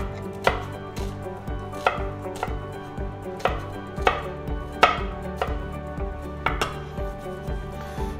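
A knife chops onion into small cubes on a cutting board, a series of crisp, close, irregularly spaced thumps against the board with faint kitchen clinks between them and no talking.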